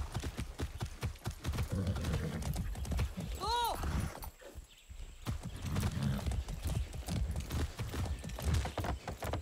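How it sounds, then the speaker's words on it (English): Horse hooves gallop in Far Cry 6, a fast clip-clop rhythm with a brief whinny partway through, heard under a person talking and game sounds. "Run, horsey, run!"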